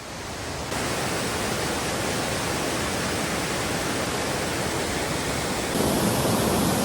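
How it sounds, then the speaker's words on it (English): Cheonmun Waterfall near Seoul, running strong, roars as a steady broadband rush of falling water, loud and continuous with no voices, swelling slightly louder near the end. "So I'm back to the waterfall."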